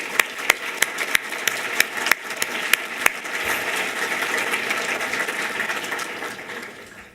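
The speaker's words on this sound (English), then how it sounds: "Please join me in giving them all a round of applause" At a conference business meeting, a few sharp, separate claps open into a dense wash of crowd applause that holds steady, then fades toward the end. No voices rise above it.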